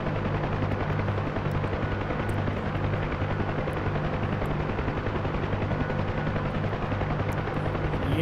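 Helicopter turning in a right pedal clearing turn on a windy day, its steady rotor and engine drone loud and continuous throughout with a constant low blade thump and no talk.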